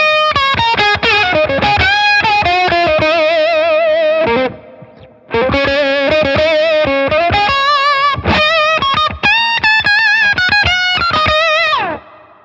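Electric guitar on the neck pickup through a Beetronics Octahive octave fuzz pedal, thick buzzy fuzzed phrases and double stops with a strong octave layer, loud and close, one brief pause, no voices.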